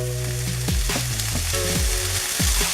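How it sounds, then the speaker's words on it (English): Celery and onions sautéing in a pan for a chicken macaroni casserole, a close, continuous frying sizzle broken by repeated scraping stirs and clinks of the spoon, with no voices. "I'm going to saute these until it's a little softened."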